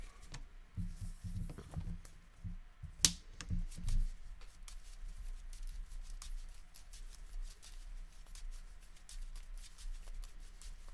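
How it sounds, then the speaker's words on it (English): KeyForge cards are shuffled during a tabletop match, giving a soft, quiet patter of riffling and rustling that runs on for several seconds, with a sharper tap partway through. "I will draw these 4, and then shuffle and draw 2 more."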